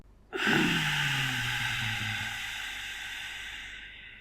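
Breathing exercise: a single long, steady breath with an airy hiss begins sharply after a short pause and holds for several seconds, slowly fading, close and alone with no talk.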